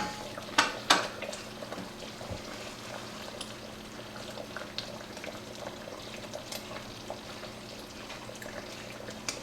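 A pot of plum jam bubbling and popping softly at a steady simmer, with a couple of sharper clinks near the start.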